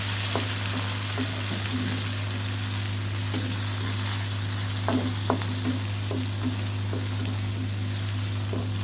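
Finely chopped, peeled tomato fries in a pan for dal mash, a steady close sizzle with a constant low hum beneath and occasional stirring clicks, no talking.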